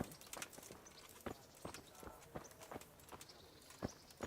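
Hooves clip-clop in an irregular, fast rhythm as horses ride along in the video game Kingdom Come: Deliverance, fairly faint and crisp, with no voices.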